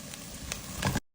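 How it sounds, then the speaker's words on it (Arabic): Garlic added to a pan of butter, onion and tomato paste, sizzling and frying for lentil soup, a steady close hiss with a few sharper crackles, no voices. "الحين بنضيف الثوم"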